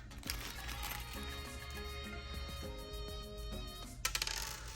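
Metal mounting keys for a Streamlight TLR-1 HL weapon light being handled, a quiet series of small metallic clinks and jingles, close and faint, ending with a few sharper taps.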